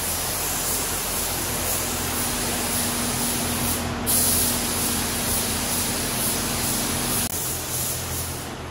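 Spray gun laying clear coat on Peterbilt 389 truck parts, a steady loud hiss that runs unbroken the whole time, with a faint hum beneath.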